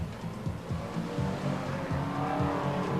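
BriSCA Formula 1 stock cars race around the Skegness circuit, engines revving in quick repeated surges with a busy, gritty roar that grows slightly louder over the few seconds.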